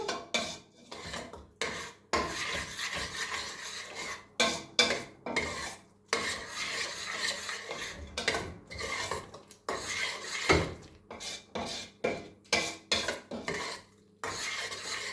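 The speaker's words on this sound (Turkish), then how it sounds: "bir buçuk su bardağı bulgurumuzu koyduk. Güzelce böyle karıştırıyorum." Fine bulgur is stirred in a bowl with a utensil. Repeated scraping and rubbing strokes come in an uneven rhythm, close and fairly clear, with no talking.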